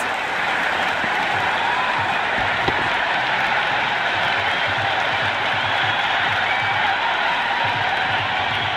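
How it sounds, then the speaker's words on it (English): Stadium crowd in the Cricket 26 video game during a Pakistan versus South Africa match, a loud, constant roar of cheering and applause that holds steady throughout with no distinct voices. "It's evident and ever so audible that the crowd is at near bursting point at today's play."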